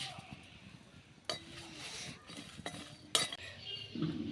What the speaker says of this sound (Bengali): এবার দিয়ে দেবো জিরে আর জোয়ান